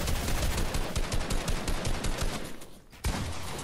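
Rapid automatic gunfire from the video game Fortnite rattles loud and continuous, briefly dipping before another burst resumes near the end.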